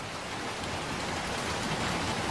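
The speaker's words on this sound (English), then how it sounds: "It's raining." Steady rain in the video game Little Nightmares 2, a dense, even hiss of falling water with soft patter, faint and continuous with no voices.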